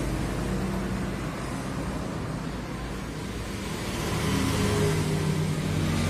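A Yamaha Vixion Old motorcycle engine idles steadily after being restarted, a continuous mid-pitched mechanical hum that swells slightly louder near the end, with no talk over it.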